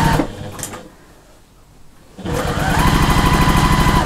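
Sewing machine stitching quilt fabric pieces, a close, loud, rapid mechanical chatter in two bursts separated by a short pause, the second run longer and steady.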